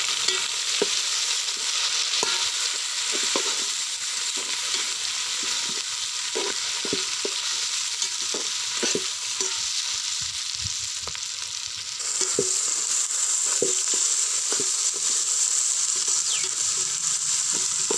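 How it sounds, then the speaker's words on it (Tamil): Tomatoes sautéed with ginger and garlic in a pan for jackfruit biryani: a steady close sizzle runs throughout, punctuated by frequent scrapes and taps of a spoon stirring, with no voices. "கட் பண்ணி வச்சுருக்க தக்காளி சேர்த்து வதக்கி விட்டுக்கலாம்"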